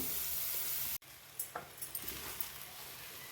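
Boiled rice being stirred through in a hot pan for egg fried rice, with a faint steady sizzle and a run of soft scraping, tossing strokes after a brief dropout.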